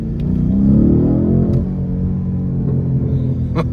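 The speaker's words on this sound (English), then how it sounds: "Oh, this exhaust is crazy." Deep, throaty exhaust of a 2019 BMW M850i rumbling up close as the engine revs briefly during a test drive, then settles into a steady low drone.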